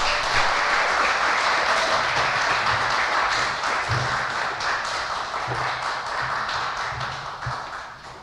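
Sustained audience applause at a National Honor Society induction ceremony, a dense, steady wash of many hands clapping that fills the room throughout and eases slightly toward the end.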